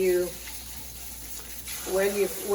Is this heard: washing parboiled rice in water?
yes